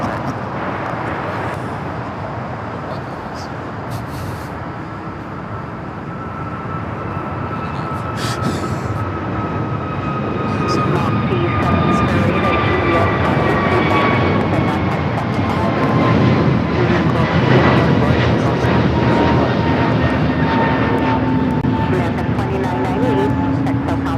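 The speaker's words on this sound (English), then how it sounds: "777. We don't see too many of these here with KLM. The 777-300ER." A KLM Boeing 777-300ER jet roars past at LAX, a loud, broad engine rumble with a whining tone that rises and swells over the span while people talk over it.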